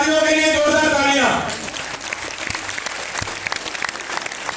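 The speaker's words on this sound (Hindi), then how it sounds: "उन परिवारवादियों के लिए जोरदार तालियां।" An audience claps loudly at a Buddhist Dhamma gathering in New Delhi, a dense burst of applause that follows a speaker's voice and carries on for several seconds.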